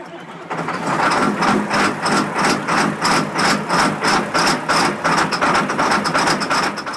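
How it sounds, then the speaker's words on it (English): A diesel engine after a cold start settles into a steady idle, with a loud rhythmic knocking pulse that repeats evenly throughout and no talking. "Diesel cold starts. Why do we love them?"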